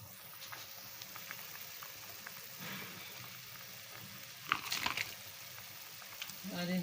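Achi soup boiling in a covered pot, with quiet, irregular bubbling and soft pops, a burst of louder bubbling near the end, heard close but faint.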